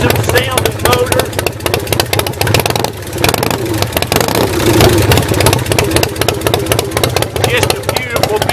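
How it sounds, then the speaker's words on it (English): A 2003 Iron Horse chopper motorcycle engine runs loud and close in a rapid, even, chugging pulse, with brief swells suggesting light revving above the idle. "awesome sounding motor."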